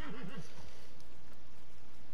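Horse in Red Dead Redemption 2 giving a loud, close neigh at the start, a wavering whinny that fades into a quiet background.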